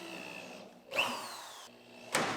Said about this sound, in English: So he's going to drill his 1/8" holes.